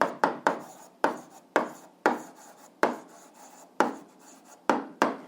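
Pen writing on paper during an algebra lesson, a series of close, distinct scratchy strokes in an uneven rhythm, each one fading quickly, with no talking.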